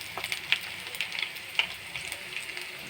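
Cumin seeds and curry leaves fry in hot oil for a Telugu moong dal and coconut curry, a steady close sizzle with scattered crisp pops and spits.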